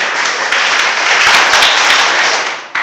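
Students clapping in a Class 12 chemistry lecture, a loud, dense burst of many hands that keeps up for a few seconds before stopping abruptly.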